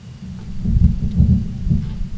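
Low, rumbling crackle from a 'rain' firework effect at a fiesta fireworks display honoring Nuestra Señora del Carmen in Las Eras, a steady dense roar heard from a distance without talk.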